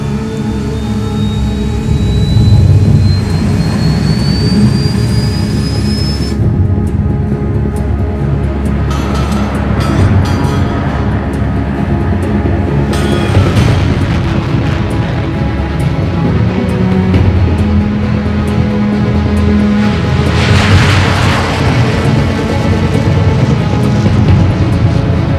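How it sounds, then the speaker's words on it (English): A jet plane in Ace Combat 7 roars continuously at full thrust, loud and steady, with a rising whine early on and bursts of wind-like rushing as it accelerates. "I was ready to break the sound barrier"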